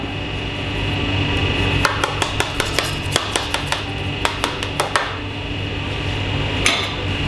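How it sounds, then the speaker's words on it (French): Small Munster gratins are tapped out of their moulds in a quick run of about fifteen sharp metallic knocks, close and crisp over a steady hum, followed by a few more faint clinks. "On démoule nos petits gratins."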